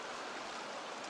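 Eagle Creek running through the White Mountain Wilderness, a steady broadband rush of flowing stream water, close and continuous with no voices.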